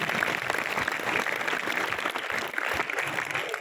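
A large audience at a spiritual talk bursts into sustained applause, dense clapping at even strength throughout, heard close and filling the hall with no speech over it.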